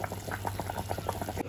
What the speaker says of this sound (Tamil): கொதிக்க சொன்னா எனக்கு இப்பயே கேக்குது